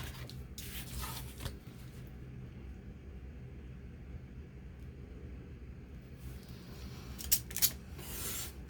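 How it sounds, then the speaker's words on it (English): Scissors fussy-cut a circular shape from paper at a crafting table, soft close snips and rustling in short bursts near the start and end, with a quieter stretch between. "I'll have to fussy cut that circular area"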